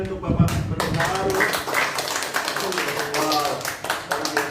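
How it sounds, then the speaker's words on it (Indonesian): A church congregation claps together during an Easter worship service, steady dense applause running throughout, mixed with voices and a speaker talking over it. "Bapak Ibu kasih tepuk tangan untuk Bapak Berdoa baru"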